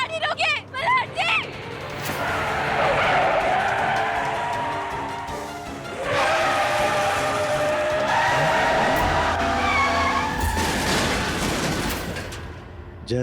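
A car skids and cannot stop in a tense drama scene, with long screeching tire noise across most of the stretch. A voice speaks briefly at the start, and dramatic background music plays under the skid.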